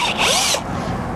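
A power drill bores into a tree trunk past the bark, giving a loud, close whirring grind for about half a second before it eases into a lower, rougher running sound.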